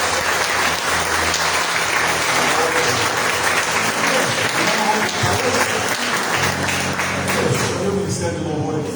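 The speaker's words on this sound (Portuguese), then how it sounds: "As palmas todas." Congregation applause during a church worship service, sustained loud clapping from many hands filling the room for several seconds, with a voice speaking over it.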